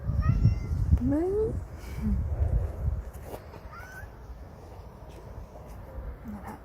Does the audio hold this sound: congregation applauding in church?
no